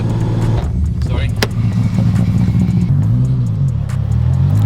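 A JDM car's engine idles and rumbles steadily from outside the vehicle on an English farm, loud and close, with a few brief clicks over the constant low drone.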